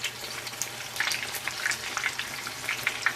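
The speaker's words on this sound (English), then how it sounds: "Deep fry until golden brown. I'm using ice cream scoop, and I put one scoop in oil, one at a time." Bhajia batter balls deep fry in hot oil, producing a steady, crackling bubble with bright popping bursts, close and moderately loud, with no one talking.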